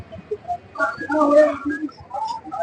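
Soft, throaty cooing of a high-flying pigeon repeats close by in low rolling phrases at a pigeon market, with some faint background chatter.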